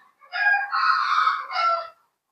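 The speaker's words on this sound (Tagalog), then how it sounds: "Pasensya sa ingay ng manok" A chicken makes a short, close squawking call in three linked bursts over about two seconds, with nothing else around it.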